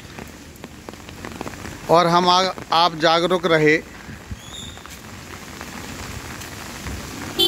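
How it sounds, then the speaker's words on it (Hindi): Continuous steady rain falls in Jhansi, a constant hiss throughout, while someone speaks in Hindi over it for a couple of seconds midway. "अभी भी बारिश हो रही है"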